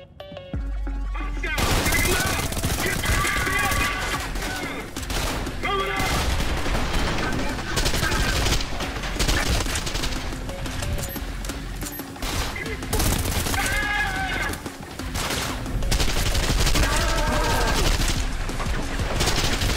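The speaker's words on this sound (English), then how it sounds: "You're gonna get in here all that gunfire?" Loud, dense gunfire in the first-person shooter video game Trepang 2, with sustained automatic bursts and rapid shots blasting almost continuously at close range, mixed with game sound effects and occasional voices.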